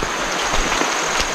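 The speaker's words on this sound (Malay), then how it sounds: "Sekarang tengah hujan guys, tengah hujan." Rain falls heavily on the forest around a stream in the hills of Ulu Sarikei, a dense, continuous hiss of drops hitting leaves and the ground, loud and close with no voices.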